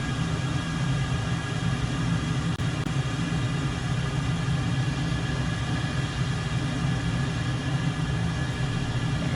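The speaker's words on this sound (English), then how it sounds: "I'm going to go full military power, afterburner on, and all the way" F-14A/B Tomcat jet engines in a flight simulator run at full military power with afterburner, producing a continuous dense roar and rumble that holds steady and loud from start to finish.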